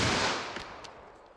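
A single sharp gunshot from a .45 Super firing an Underwood JHP round bursts loud at the start, then its crack and echo trail off quickly, with a few faint knocks afterward.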